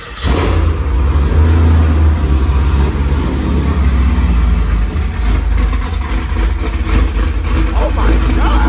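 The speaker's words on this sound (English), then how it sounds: "But I'm about to give y'all a cold start." Cold start of a cammed Pontiac G8 V8 engine, firing up abruptly and settling into a loud, rough, lopey idle with a heavy low rumble that stays close and continuous throughout.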